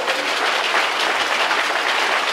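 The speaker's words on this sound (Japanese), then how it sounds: "改めて盛大な拍手をお願いします。" A stadium crowd at a Kyushu Bowl American football game applauds the winning Fukuoka Suns, a loud, dense, continuous roar of clapping with no break.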